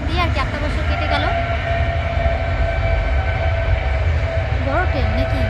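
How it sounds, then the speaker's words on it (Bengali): A passing train fills the scene with a loud, continuous low rumble and rattling that drowns out everything nearby, while people talk over the din. "ট্রেন যাচ্ছে, একদম কিচ্ছু শোনা যাচ্ছে না, যা আওয়াজ।"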